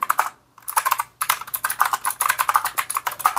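Rapid clicky keystrokes on an AULA F2088 typewriter-style mechanical keyboard with blue switches, loud and close, in steady bursts with a brief pause near the start.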